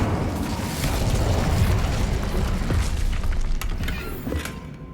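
A Bombarda blast spell detonates in the Hogwarts Legacy video game, a loud rumbling boom with crackling debris that slowly fades over several seconds, with no speech.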